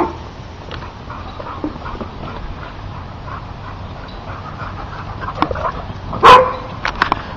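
A playful dog yips and barks in a few short, sharp bursts near the end, over a quiet indoor background.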